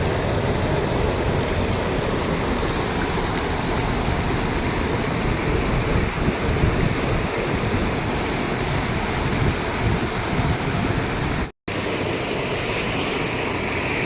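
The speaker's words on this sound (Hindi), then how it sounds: "पानी की आवाज़ सुनी आपने, और इसकी बहाव देखो कितना तेज है।" A glacier meltwater stream rushes at Zojila Pass, giving a loud, steady, broadband roar of fast-flowing water that continues without pause apart from a brief dropout near the end.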